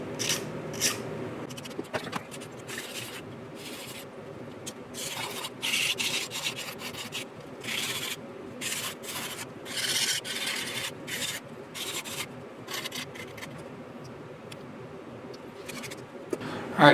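Edges of 1/32 scale plastic model aircraft parts for a PBY Catalina are filed and cleaned up in bursts of close, dry rasping strokes, with quiet pauses between passes.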